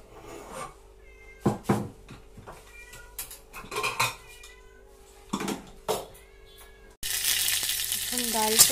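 Dried chili, bay leaf and fenugreek drop into hot oil to temper dal, bursting into a loud, continuous sizzle after several sharp clinks of pots and utensils and a cat's repeated meows.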